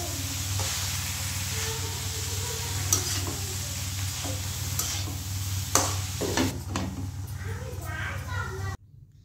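Cabbage stir-fries in a pan with a continuous sizzle and frequent scraping stirs of a spatula, near and moderately loud, while a low background hum persists and a voice speaks briefly before the sound cuts off abruptly.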